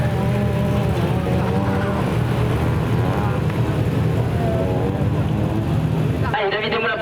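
Touring race cars, including a Mini Cooper and a Peugeot 208, pass on a circuit during a touring car cup race, their engines droning loudly and continuously with shifting pitch, followed by an abrupt change at the end.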